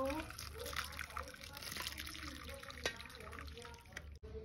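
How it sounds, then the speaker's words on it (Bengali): Boiled pasta is tipped into a pink basket to drain, giving a steady close splashing and trickling of water that runs throughout, with a person talking over it. "এই দেখো পাস্তাটা জলটা ঝরাতে দেব"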